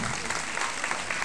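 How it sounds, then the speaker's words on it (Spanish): Brief, dense applause from an audience at a hypnosis comedy show, a steady rattle of many hands clapping at moderate distance with a faint voice mixed in. "¡Un aplauso!"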